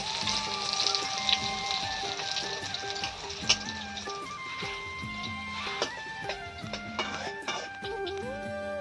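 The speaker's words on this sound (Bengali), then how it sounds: "আর হচ্ছে বেগুন ভাজা" Eggplant slices fry in a pan with a crackling sizzle and scattered pops, while steady tonal sounds like background music run underneath.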